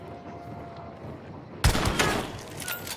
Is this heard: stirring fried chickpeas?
no